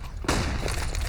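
A flashbang grenade pops in a Counter-Strike match on the Inferno map, a sudden loud bang after a brief lull, followed by a sustained ringing hiss with faint game noise.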